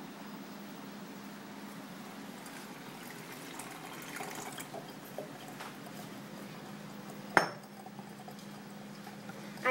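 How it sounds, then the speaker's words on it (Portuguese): Boiling water poured over coffee in a filter, a faint quiet trickle with a few soft clinks of cutlery or glass and one sharper clink near the end. "só depois a gente coloca a água fervendo"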